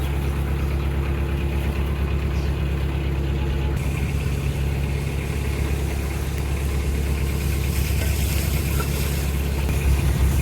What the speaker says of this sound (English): there's more boats coming up behind as well